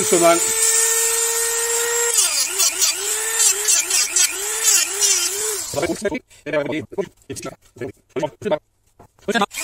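A mini angle grinder whines at high pitch, then bogs and wavers as it slowly cuts through plastic, followed by short stop-start bursts of grinding, close and loud.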